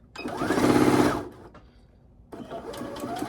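A sewing machine backstitches a pillowcase in a loud whirring run of about a second, stops briefly, then starts a second, steadier run of stitching.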